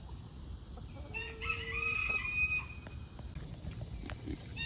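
A rooster crows in a long drawn-out call over steady low background noise, fairly close and clear.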